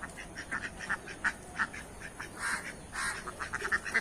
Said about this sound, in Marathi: खूप सुंदर बदक आहेत मित्रांनो वा किती छान बदक आहेत